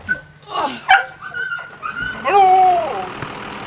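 Young sled dog puppies, nine months old and shut in the top box of a racing team's truck, yip, whimper and give squeaky barks at close range, with a drawn-out whining cry near the end.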